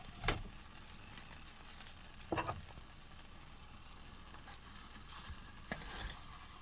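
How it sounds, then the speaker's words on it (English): A Chinese Type20A cold-climate, high-altitude emergency ration bar simmers in a pan, giving a faint, steady sizzle broken by a few soft pops and clinks, with no voices. "that is simmering up something fierce"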